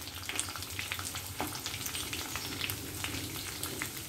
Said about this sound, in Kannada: ಆನಿಯನ್ ಹಾಕ್ಕೊಂಡು ಚೆನ್ನಾಗಿ ಫ್ರೈ ಮಾಡ್ಕೊಳ್ಳೋಣ